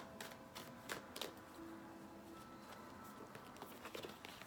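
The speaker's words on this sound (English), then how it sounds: "Let me finish shuffling." Tarot cards are shuffled in quick, crisp riffling bursts, light rapid flutters and taps repeating close by against quiet background hiss.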